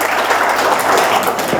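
Audience applause at an anniversary celebration of the PU FM 104.6 radio station, a steady, dense burst of many hands clapping, loud and close, with no talk over it.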